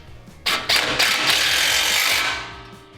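A bolt on a Razorback Offroad expedition rack and spare tire carrier is tightened with a power tool, a few sharp buzzing bursts that settle into one sustained whir before trailing off, close up and without speech.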